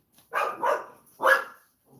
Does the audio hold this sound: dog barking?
yes